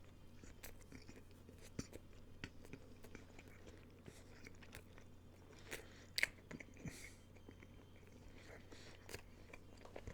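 Wild boar meat being chewed close up, a steady run of soft, wet bites and crunches at low level over a quiet room hum, with no talk.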